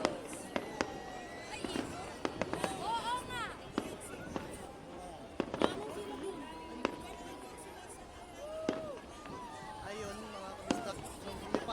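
New Year's fireworks display in Alkout, Kuwait: sharp bangs and crackling bursts pop repeatedly at irregular intervals, with whistling rises, under crowd chatter and cheering voices.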